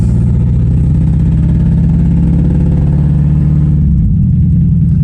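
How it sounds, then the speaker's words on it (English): A 1996 Honda Odyssey engine runs close and loud with a rough, uneven low rumble from a misfire, its pulsing irregular throughout before the tone shifts and drops near the end. "Sounds like it's misfiring."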